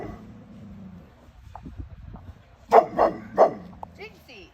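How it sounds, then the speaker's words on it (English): A dog barks several times in short, loud bursts, alarmed by a person in a giant chicken costume on Halloween night, with people talking nearby before and around the barks. "Look, they're not even gonna come because you're barking at them."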